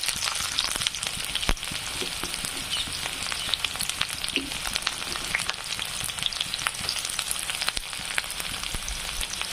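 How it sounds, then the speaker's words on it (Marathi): Onion frying in oil with mustard seeds in a pan for a spiny gourd dish, a dense, steady crackling sizzle close by, sprinkled with sharp pops and no talking. "छान असा कांदा फ्राय होऊ द्यायचा."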